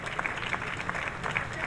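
Audience applause breaks out at a mushaira, a short burst of crowd clapping under a speaking voice.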